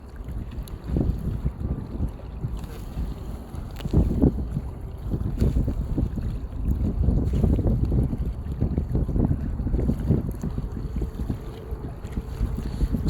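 Heavy gusting wind buffeting a small Potensic Atom drone flying on a windy day, a loud continuous low rumble and roar with a faint high motor whine above it.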